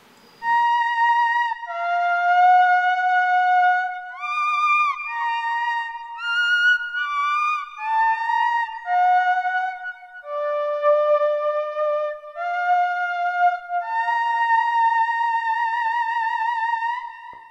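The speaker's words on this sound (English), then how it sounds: "a theremin has a very monotone and monophonic sound" A theremin plays a slow monophonic melody of gliding, wavering sustained tones with smooth slides between notes, clear and close with no other sounds.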